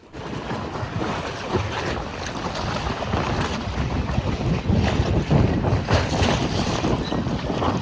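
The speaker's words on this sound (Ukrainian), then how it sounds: "наостанок послухаємо плеск води озера Онтаріо, що розділяє Канаду і США." Lake Ontario water splashes and laps in a continuous wash, mixed with gusty wind noise, close by and fairly loud.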